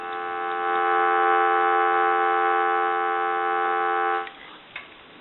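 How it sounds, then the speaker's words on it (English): A converted coin payphone gives a steady, loud telephone dial tone that holds for about four seconds, then cuts off, followed by a faint click. "We'll give you some dial tone."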